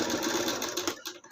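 A sewing machine runs in a short burst of rapid stitching on a blouse lining, its needle whirring close and then stopping abruptly.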